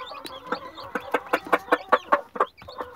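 A brooding hen, with three newly hatched chicks beside her, gives a rapid, rhythmic run of close clucks, about a dozen evenly spaced pulses that then trail off.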